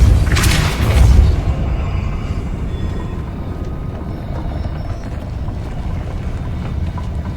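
The Depulso force spell going off in Hogwarts Legacy: a loud booming burst with a bright whoosh at the start, then a long low rumbling tail that fades slowly.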